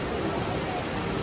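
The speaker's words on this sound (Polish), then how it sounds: "Najwyższy na świecie wewnętrzny sztuczny wodospad" The world's tallest indoor artificial waterfall, over 40 metres high, at Changi Jewel airport in Singapore, roars as a dense, steady broadband rush of falling water, loud and continuous throughout.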